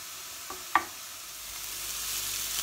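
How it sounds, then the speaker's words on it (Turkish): Lamb chunks fry in a dry pan without oil, a soft steady sizzle with a couple of faint knocks of the meat being turned early on, the hiss swelling slightly over time. "Yağ koymadan kuzu kuşbaşı etimizi şöyle tavanın içerisine çeviriyorum."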